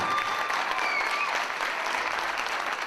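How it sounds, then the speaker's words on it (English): A high school assembly audience claps in a steady, dense round of applause that stays loud and even throughout, with no talking over it. "Give yourself a round of applause for what you're doing today"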